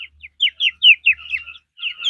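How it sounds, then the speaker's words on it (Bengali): A 25-day-old female quail chirps in a quick series of high, bright tweets close by, with short gaps between bursts and no other sound. "তো 25 দিন বয়সের কোয়েল পাখি, 107 গ্রাম ওজন"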